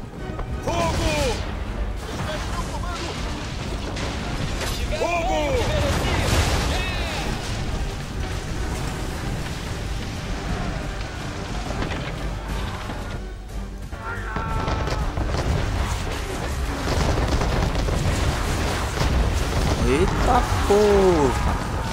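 Booming cannon blasts and crashing impacts in the Battle of the Chesapeake naval battle in Assassin's Creed 3, amid a noisy battle din, with people talking and shouting over the chaos.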